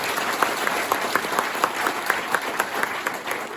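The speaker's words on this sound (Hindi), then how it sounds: "उनके लिए एक बार जोरदार तालियां चाहूंगा" An audience at a wellness company speech event gives loud, sustained applause, a thick crowd of clapping with a few sharper individual claps standing out at a steady pace.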